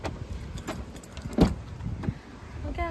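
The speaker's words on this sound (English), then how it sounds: "Oh, gotta unlock the door." Keys jangle and a car door lock clicks as someone unlocks a black-and-pink car, with short metallic rattles and a brief thump up close.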